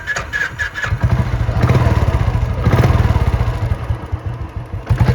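A Royal Enfield Classic 350 motorcycle engine, five years old, thumps through rhythmic revs, its single-cylinder beat loud and close, pulsing in bursts then settling back.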